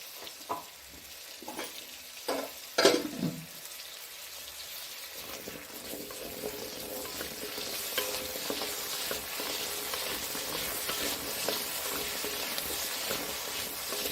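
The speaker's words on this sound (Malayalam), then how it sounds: "ഉള്ളി അതിലിട്ടിട്ട് ചെറുതായിട്ടൊന്ന് വഴറ്റി എടുക്കണം" Shallots hit hot ghee in a pan for a medicinal kanji, with a few stirring clacks at first followed by a steady, soft, close sizzle that builds and continues, with no voices.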